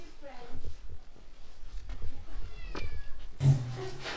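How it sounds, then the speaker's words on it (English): A cat meows several times at close range, short and plaintive, during dinner at a place on São Jorge island, with people chatting around it. "I think the cat wants to come for dinner."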